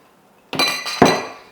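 A metal whisk striking a bowl while mixing thickener into sugar for a blueberry galette, two sharp bright clinks about half a second apart, close and loud, ringing out briefly.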